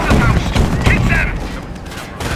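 Dense, loud gunfire from Company of Heroes: Opposing Fronts, with continuous bursts and explosions filling the battlefield, mixed with shouted voice lines from soldiers.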